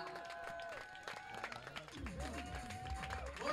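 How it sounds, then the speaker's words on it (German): Audience applause at a freestyle football pair quarter-final, a steady wash of clapping mixed with crowd noise and music, with an announcer's voice running over it. "Großen Applaus."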